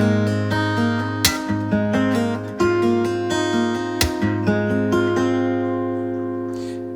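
Acoustic guitar fingerpicked in a steady rolling alternating-bass figure with sharp plucked attacks and ringing sustained chords, close and clear with no voices.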